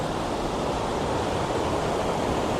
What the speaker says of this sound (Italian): Sentite il fragore dell'acqua,